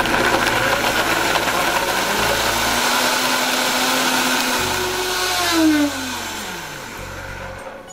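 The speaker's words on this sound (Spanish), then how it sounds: "Vamos a empezar a moler." A blender grinds a creamy green salsa made without avocado in one loud, steady whir for about eight seconds, its motor pitch dipping and then rising again near the end.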